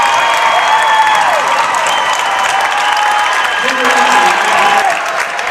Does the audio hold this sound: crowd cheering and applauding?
yes